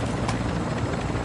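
Helicopter in a video game, a steady close rotor and engine drone that fills the short stretch with a broad, even roar and no talk.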